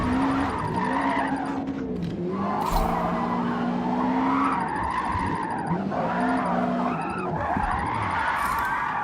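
Tires on a car fitted with racing tires squeal and skid continuously while drifting in a video game, with long wavering screeches over a revving engine drone, loud and close, with no talk.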